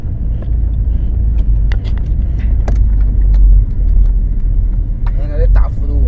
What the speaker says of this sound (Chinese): 咱们去摇这个方向盘，整个车身让它这样错的话，它也会响。